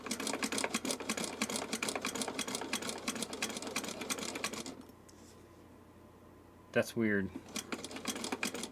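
A sewing machine stitching fabric runs in a fast, rapid mechanical patter for several seconds, stops, then starts again briefly, with a voice speaking over it.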